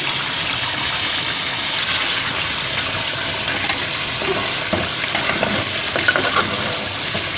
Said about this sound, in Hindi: अब ये मसाला भूनते हुए तकरीबन 10 मिनट हो गए, तब मैं इसमें गरम मसाला भी डाल रही हूँ।